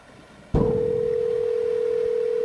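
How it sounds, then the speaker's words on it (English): After a short quiet moment, a steady telephone dial tone starts abruptly and holds at an even pitch to the end. "we're getting a dial tone"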